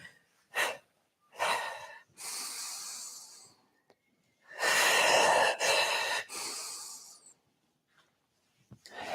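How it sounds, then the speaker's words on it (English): Audible exhales and inhales during a Pilates knee-bend exercise: several separate breath bursts, some short and sharp, others long and broad. They sound close and are separated by quiet pauses, with no speech. "We'll exhale on the knee bend and inhale as the arms rise."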